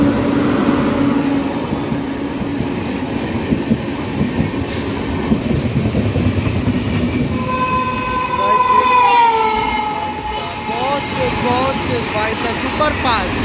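A train arriving at Zamania station in India, with a loud rumbling of rolling cars and a rising, wavering horn blast partway through. Voices are heard in the background.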